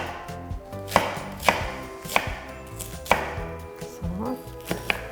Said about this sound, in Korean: 굵직굵직하게 썰어 주셔도 괜찮아요